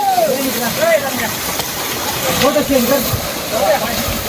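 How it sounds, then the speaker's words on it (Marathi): A steady, loud rushing roar of falling water, with voices talking and calling out over it. "भाई फुलटू धबधबा चालू आहे."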